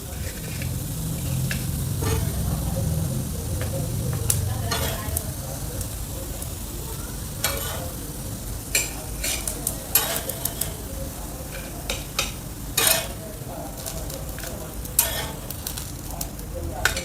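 Pieces of paneer tikka fry in a pan with a continuous crackling sizzle, broken by sharp scrapes and clinks of a utensil against the pan and a low rumble near the start.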